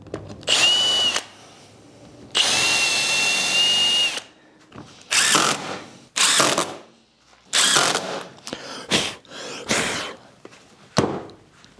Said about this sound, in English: So a few countersunk screws in this one now, then we'll clamp these two together, get some screws on this side